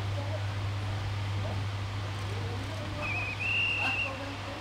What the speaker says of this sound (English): Looks like the whistle blew as well on the far end.